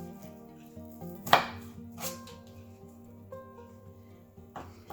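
A knife chops onions on a cutting board, with one sharp loud chop followed by a few softer, spaced cuts in a quiet kitchen.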